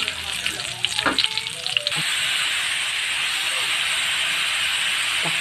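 Garlic and onion sauté in a pan for adobo, with a loud, steady, close sizzle and hiss; some clattering stirring sounds come first, then the frying settles into an even, continuous sizzle.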